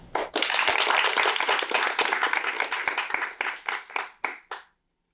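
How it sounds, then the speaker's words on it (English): A student audience at a public speaking class claps for a speaker, with loud, dense applause that thins to a few scattered claps before stopping. "Please give a round of applause for Amanda"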